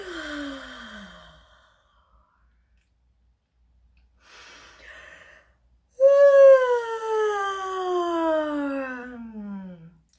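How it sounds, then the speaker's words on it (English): Voiced yawns from a vocal warm-up: breathy intakes lead into long, sliding tones that fall from high to low pitch. They are loud and close, separated by quiet gaps, and the last yawn is the strongest. "Into yawning."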